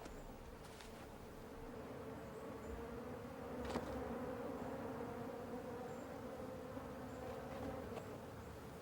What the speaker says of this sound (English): a bear unearths a delicacy, the nest of a colony of ground-dwelling wasps